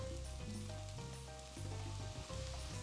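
Onions with sazon seasoning of cumin and oregano sizzle steadily in a pan, a dense continuous frying crackle heard close and alone, with no voices.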